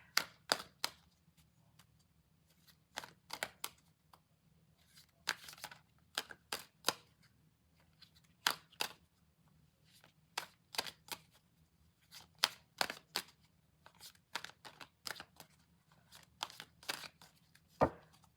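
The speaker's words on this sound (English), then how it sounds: "Let me shuffle again." Quiet, crisp clicks and snaps of tarot and oracle cards being shuffled by hand, coming in irregular bursts with short pauses between them.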